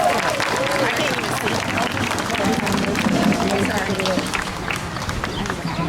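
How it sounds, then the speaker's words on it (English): A large outdoor crowd at a Memorial Day ceremony in Chappaqua applauds in a dense, steady roar of clapping that lasts throughout, with voices mixed in. "Another round of applause."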